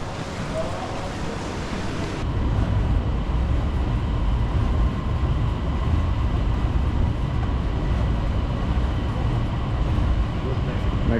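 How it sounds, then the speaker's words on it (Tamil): A metro train in Kuala Lumpur rumbles steadily, a low continuous roar of wheels and rushing air that grows louder after a couple of seconds. "மெட்ரோ"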